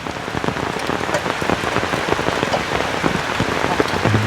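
Steady rain pours onto surfaces at a hut under construction, a dense continuous patter with individual drops tapping close by, and no voices.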